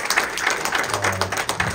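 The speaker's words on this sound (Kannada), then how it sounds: "ಈ ಎಲ್ಲ ಚಪ್ಪಾಳೆಗಳು" An audience at a film trailer launch press meet claps in a light, moderately quiet patter of scattered hands, a low hum running underneath.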